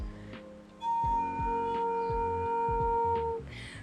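A Malaysian nose flute, blown very softly, holds a quiet, steady low tone for about three seconds, with faint breathy noise and light background knocks.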